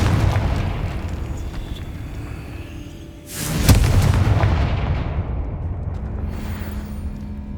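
Confringo fire spell blasting in Hogwarts Legacy: a sharp, loud explosive boom partway through with a rumbling tail, amid game ambience and distant crackles before it.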